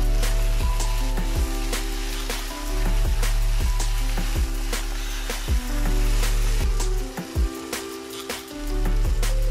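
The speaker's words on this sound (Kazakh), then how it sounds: "2 ас қасық соя соусын қосып, жақсылап араластырып, 1 минуттай қуырып аламыз." Onion, tomato paste and soy sauce for Kazakh fried lagman sizzle loudly and steadily in a pan, with regular knocks and scrapes of a utensil stirring through the frying.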